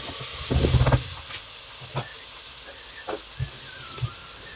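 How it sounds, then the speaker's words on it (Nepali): Oil sizzles and hisses in a pan as turmeric fries for a Nepali chicken curry, with a louder burst of crackle early on and then a soft steady hiss broken by a few sharp pops and spatters. "यसलाई पनि हल्का गोल्डन ब्राउन हुनेसम्म फ्राई गर्ने।"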